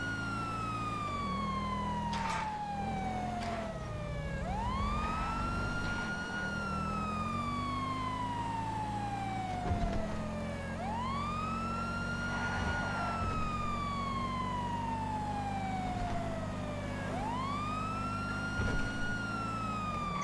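A police car siren switched on in GTA V, wailing in long rising and falling sweeps that repeat steadily over a continuous engine drone, loud and close throughout.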